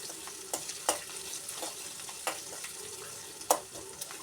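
Curry leaves sautéing in a pan for a Kottayam-style fish curry, a steady low sizzle broken by sharp scraping stirs of a utensil at irregular intervals, close and fairly quiet with no talking.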